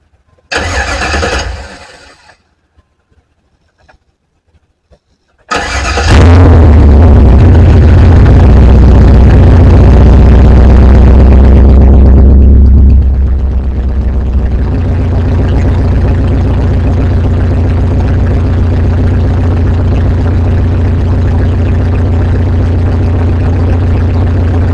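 A Pontiac Firebird engine cranks briefly, stops, then cranks again and catches, roaring up loud before settling into a steady, deep idle that runs on alone.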